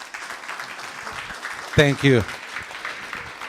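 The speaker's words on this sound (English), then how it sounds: "let's give him a great round of applause" Audience clapping at a Mexican American community event in Scottsdale, steady moderate applause throughout, briefly overlaid by someone speaking near the middle.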